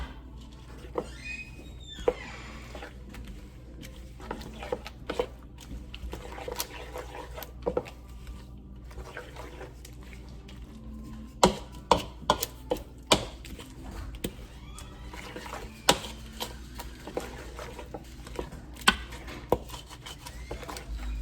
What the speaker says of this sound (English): Let me get a spoon out here, and we'll give this a good mixing here.